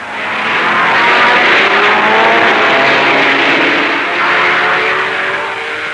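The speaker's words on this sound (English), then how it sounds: "A clean start for the sports cars." A pack of early-1960s sports cars roaring past on a racing circuit moments after the start, a loud sustained engine drone that swells and ebbs slightly as they pass, with no voices over it.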